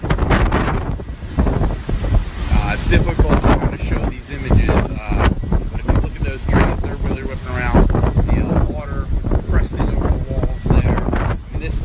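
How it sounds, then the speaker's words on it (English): Hurricane Irma's strong wind gusts roar and buffet the microphone continuously in Florida, loud and close, with a muffled voice faintly beneath the gusts. "The wind is really whipping."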